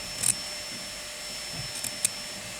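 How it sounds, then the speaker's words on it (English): A vacuum cleaner runs steadily indoors in a house, a constant broad whooshing drone with a high whine and a few brief clicks or rattles on top, with no one speaking. "Hubby's got the vacuum cleaner out today, and he has been vacuuming for ages."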